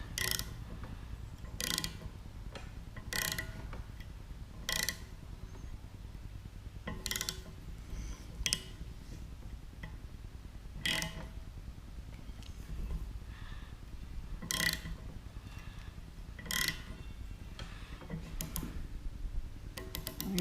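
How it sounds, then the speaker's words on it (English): A ratchet with tap sockets turns a 7/16 fine thread tap in a home workshop, making quiet, sharp clicking bursts repeated every second or two with pauses between them. "I've got a 7/16 fine tap. I've got my tap sockets."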